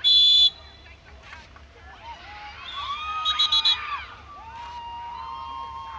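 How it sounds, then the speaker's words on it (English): Girls at a youth football practice keep up high, overlapping screams and shrieks heard from a car, with crowd noise and a loud buzzer-like burst at the start. "these girls just constantly keep on screaming"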